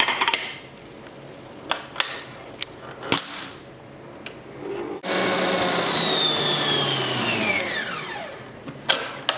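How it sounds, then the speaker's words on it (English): Electric mixer creaming soft butter and sugar for a Christmas cake, starting with scattered clanks and handling noises, then a loud steady motor whine from midway that slowly drops in pitch toward the end. "If you're using a mixer like this, it's just worth going round the sides and checking that there's no butter stuck there."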